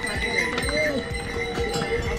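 Horses walk along the Kedarnath trekking path, their hooves clip-clopping in a steady, repeated rhythm beneath background voices and crowd noise.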